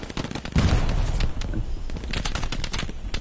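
Gunfire in the World War II shooter game Hell Let Loose, rapid bursts of automatic fire cracking in quick succession, loud and close, with a faint voice beneath.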